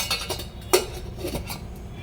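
A metal lid comes off a steamer pot holding rice kozhukattai, giving a few light metallic clinks and one sharper clank, close and fairly quiet, with no talking.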